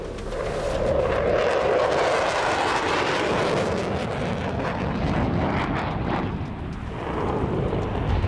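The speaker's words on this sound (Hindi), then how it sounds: "B-2 बम वर्षक विमान न्यूक्लियर साइट की तबाही का सामान।" A deep, continuous roar of a B-2 bomber passing, broad and rumbling, steady for several seconds with no speech.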